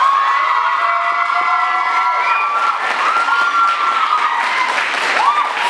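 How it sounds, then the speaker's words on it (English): Variety show audience applauds and cheers after a performance, loud continuous clapping mixed with whoops and shouts throughout. "I think that deserves a round of applause"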